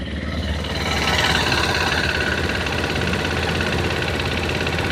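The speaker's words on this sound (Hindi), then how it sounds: "इंजन साउंड भी सुना देता हूँ" A TVS Apache RTX 300 motorcycle engine idles steadily and close by with an even rumbling throb for five seconds, alone with no voices.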